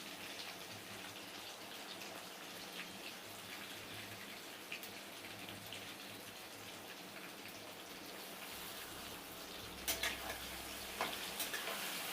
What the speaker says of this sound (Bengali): আমি এখন আমার মশলাগুলো ভাজা হয়ে গেছে, পেঁয়াজ কুচিটা ছেড়ে দিলাম।